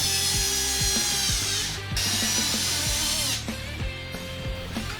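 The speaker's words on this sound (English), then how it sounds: "And then we're going to drill a hole right through the middle here." A power drill bores a hole straight through a piece of wood for a homemade bow stringer, its motor whining steadily with repeated grinding bursts as the bit bites, briefly pausing once.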